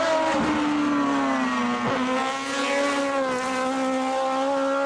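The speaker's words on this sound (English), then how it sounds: "That Kawasaki engine screams. Sounds amazing." An Alpine 110 fitted with a swapped Kawasaki ZX-12R motorcycle engine revs hard in a steady, high-pitched scream. It holds close and loud throughout, with a brief dip and a sharp blip partway through.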